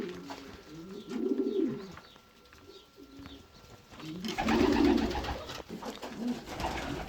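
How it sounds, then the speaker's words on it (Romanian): Pigeons cooing in a loft, repeated soft throaty coos rising in two clear swells, close by, with faint rustling between calls and no talk. "vă arăt porumbeii"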